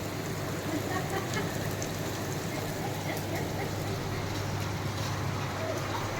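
Steady rainfall, a dense even hiss of drops on surfaces holding constant throughout, moderately loud, with a low background hum and faint voices.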